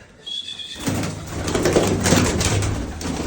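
A faint squeak, then a sudden burst of busy flapping and scuffling close by from a wild pigeon being handled, continuing in rapid irregular flurries to the end.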